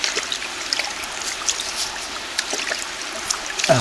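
Spring water trickles and flows along a stream at Tel Dan, a soft steady babble with light splashes, faint and continuous with no voices.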